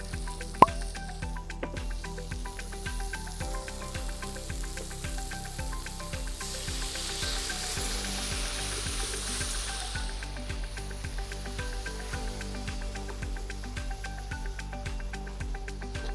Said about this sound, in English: And we're going to deglaze with the white wine.